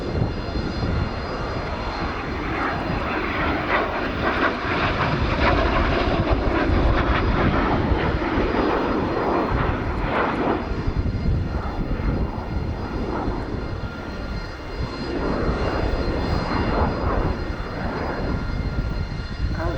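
A Messerschmitt Me 262 jet fighter flies past at an air show at RIAT in England, its engines roaring loud and steady throughout, with no talk over it.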